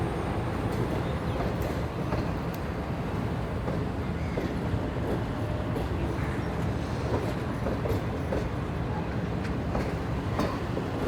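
The Shalimar Express stands at a station in Pakistan amid a steady, even rumble of rail and platform noise that stays constant throughout, with no clear horn or distinct movement.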